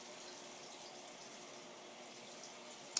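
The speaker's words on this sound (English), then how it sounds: "now the water is just now being added into it" A Maytag Bravos top-load washer filling with water: a steady, quiet hiss of water running into the drum, unchanging for the whole stretch, with a small click at the very end.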